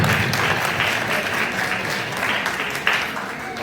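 Applause from an audience at a school Christmas celebration in Sargodha, a steady roomy wash of clapping hands lasting throughout, with some crowd murmur underneath.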